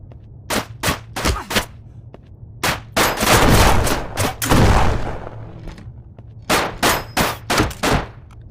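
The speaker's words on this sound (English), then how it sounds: "Where's he shooting me from?" Gunfire in the VR shooter Shotwood: sharp cracks in short bursts, some single shots and rapid clusters, with metallic clangs and a couple of longer rolling blasts, loud and close.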